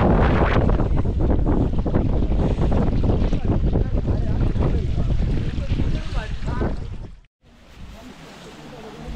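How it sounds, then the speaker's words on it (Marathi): Strong wind roars across the microphone on a mountain trek up Kalsubai, Maharashtra's highest peak, a loud continuous buffeting gust that drops out briefly near the end before resuming more softly. "वारा बघा."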